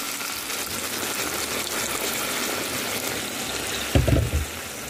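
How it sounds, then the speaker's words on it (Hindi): A cup of water is poured into a pan of chicken and potato curry with chilies, a continuous hissing pour over the sizzle that ends in a louder splash and bubbling burst near the end. "अब 1 कप जितना पानी डालूंगी"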